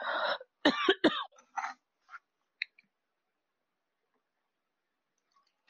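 A few sharp coughs and a throat clear from very dry air, close to the microphone, followed by small clicks and then quiet.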